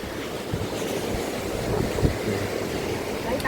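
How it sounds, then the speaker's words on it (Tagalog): A steady, roaring rush of strong wind buffets constantly throughout, broadband and close, with faint low thumps underneath. "Lakas ang hangin."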